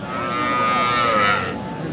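A six-teeth-age cow with her calf at a cattle market in Aftabganj lets out one loud, close, drawn-out moo of about a second and a half, with no talk over it.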